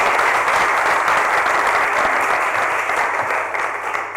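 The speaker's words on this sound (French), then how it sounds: "Vous pouvez applaudir très fort" An audience at a student percussion show gives sustained, dense applause, loud and steady throughout before tapering slightly near the end.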